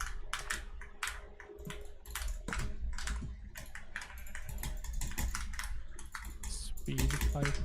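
Someone speed types the alphabet on a computer keyboard, producing a dense, rapid, continuous clatter of key clicks close to the microphone.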